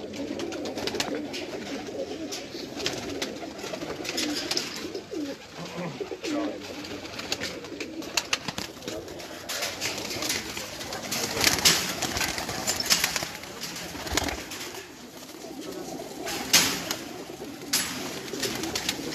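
Pigeons kept for competitive pigeon flying coo repeatedly near at hand, their soft, throaty calls mixed with rustling and occasional wing flaps.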